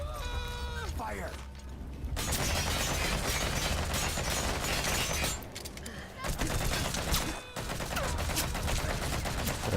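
Sustained fusillade of gunfire in Metal Gear Solid V: The Phantom Pain on PS4, loud and dense bursts filling most of the stretch with brief pauses, mixed with game effects and some voice.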